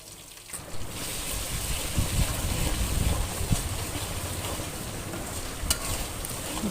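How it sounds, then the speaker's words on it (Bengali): Ginger-garlic paste with cinnamon, cardamom, cloves and bay leaves frying in a pan for a chicken and bottle gourd curry. A dense, steady sizzle and crackle fills the whole stretch, close and continuous. "ভালো করে ভেজে"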